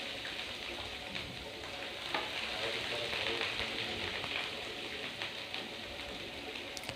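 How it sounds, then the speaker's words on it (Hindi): Garlic ginger paste frying in oil for an arvi (taro root) curry, a soft continuous sizzle with scattered crackles, fairly quiet and steady throughout. "और ये मैंने लहसुन अदरक का पेस्ट इसमें डाला है ऑयल में।"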